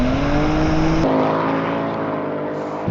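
A Ford Mustang Dark Horse and a BMW M4 Competition racing, with a loud, continuous engine roar whose pitch climbs and then abruptly drops as if shifting gear, sustained throughout with no talk.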